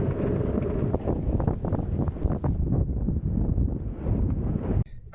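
Strong wind buffets a sailboat at sea while the staysail is being reefed, a loud, gusting roar battering the microphone that eases near the end, with no talking.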